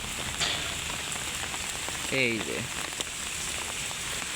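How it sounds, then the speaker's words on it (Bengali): Steady rain falls in windy evening weather after a hot spell, making an even, close hiss throughout, with a person briefly speaking partway through. "এখানে অনেক বাতাস, বৃষ্টি হচ্ছে।"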